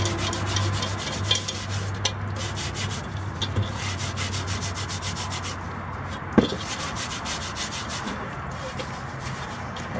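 Continuous rough scrubbing rasps against a rusty cast iron Dutch oven, a steady gritty rubbing with rhythmic strokes and one sharp knock near the end, fairly quiet and up close.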